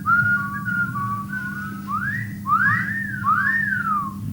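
Someone whistles a tune close by: steady held notes first, then a few rising-and-falling swooping phrases over a low hum.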